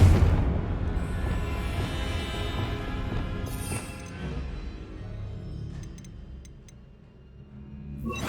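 A Confringo blasting spell explodes in Hogwarts Legacy with a loud booming burst that rumbles and slowly fades, followed by faint magical chimes.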